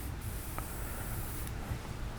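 Airbrush with a blocked nozzle giving a sparse spray: a soft, steady hiss that runs throughout at low level, close by, with a faint click partway through.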